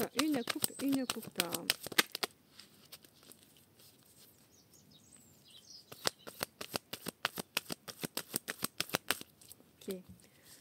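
A deck of oracle cards being cut and shuffled, rapid crisp riffling at the start, then a quiet pause and a longer run of sharp card snaps, with a brief voice near the end.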